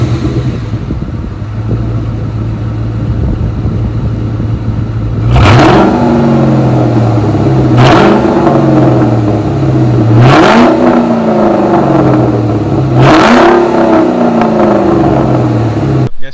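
A 1999–2004 Ford Mustang GT with an aftermarket exhaust idles with a deep burble, then revs four times in sharp, evenly spaced bursts, each blip roaring up and dropping back to a loud rumbling idle.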